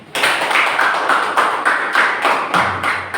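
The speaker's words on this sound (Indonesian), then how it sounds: "Aplaus." Audience applause at a classroom teaching session, a short burst of many hands clapping in a steady rhythmic pattern, fairly loud and close, with no talk over it.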